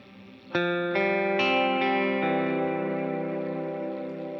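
Electric guitar with ambient reverb at full mix plays a few picked notes in quick succession, each ringing into a lush, washed-out sustain that piles up and slowly decays, with no voices.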